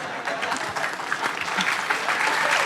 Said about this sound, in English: There's a slight knowing laugh and applause happening here